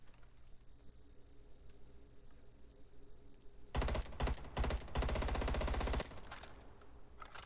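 A burst of rapid automatic assault rifle fire rips out loudly in Cold War Zombies, several dense volleys lasting about two seconds after quiet game ambience.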